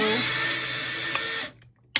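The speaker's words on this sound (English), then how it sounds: "You want to put a little pressure towards where you're drilling." A power drill boring a hole while making a mandala sun catcher gives a close, steady, high whine for about a second and a half, then stops and is followed by a brief knock.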